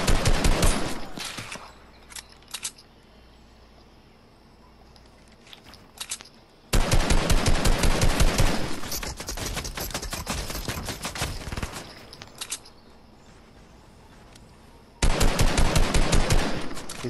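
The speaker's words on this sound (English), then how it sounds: "Where are they shooting?" Bursts of rapid automatic gunfire in Fortnite Battle Royale, two long loud volleys separated by a quieter stretch with scattered single shots, ending in another sustained burst.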